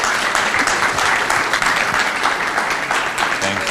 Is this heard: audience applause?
yes